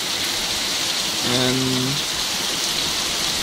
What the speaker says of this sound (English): I've seen rain like this before, so it's nothing new.